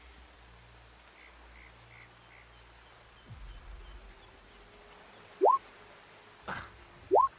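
Seagulls calling on a beach: two short, rising squawks near the end stand out against a faint, steady background hush, with a soft thump and brief rustle in between.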